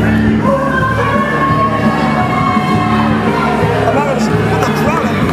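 A wrestling arena crowd reacts to a match with loud, steady hubbub and scattered shouts filling the space throughout, while a commentator's voice runs over it.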